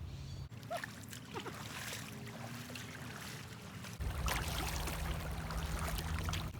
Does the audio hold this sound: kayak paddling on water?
yes